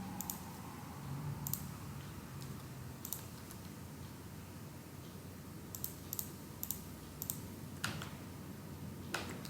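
Sharp, light computer mouse clicks come one at a time or in quick pairs at an irregular pace during 3D modeling work in Blender, close and fairly quiet over a low steady hum.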